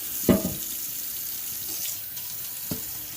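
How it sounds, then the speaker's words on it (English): Water runs steadily from a tap into a pot while rinsing it for saltfish fritters, with a few clunks of the pot being handled in the sink. "Go ahead and rinse the pot out a little bit."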